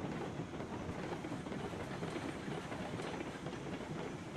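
Locomotive hauling wagons in the Railroads Online game, a steady rolling rumble with faint clickety-clack running continuously at low volume, no voices.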